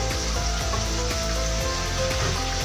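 Onion and almond puree frying in hot oil with chicken for a curry, giving a steady, loud, continuous sizzle with faint stirring, no voices.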